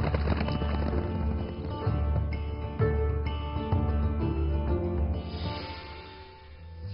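Horses' hooves clip-clopping at a breeding ground in Gansu, China, a dense steady clatter of many hoofbeats filling the whole stretch, moderately loud and continuous.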